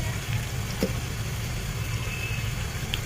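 Ginger-garlic spice paste going into browned onions frying in a pan for a fish and winter-vegetable curry, giving a steady, faint sizzle that hisses evenly throughout.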